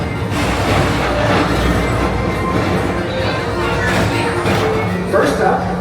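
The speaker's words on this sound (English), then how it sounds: "your express train keeps on rolling through the future" Tomorrowland Transit Authority PeopleMover cars at Magic Kingdom roll steadily along the track with a constant, fairly loud rumble and whir, and a recorded narrator talks over the motion throughout.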